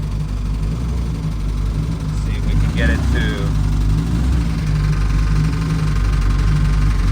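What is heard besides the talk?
small car engine idling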